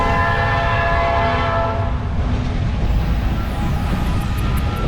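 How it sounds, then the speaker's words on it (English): A passing train sounds its horn in long steady blasts over a loud continuous rumble of rail cars, heard close by outdoors at a family reunion getaway. "We also got to enjoy several trains that passed by throughout the weekend."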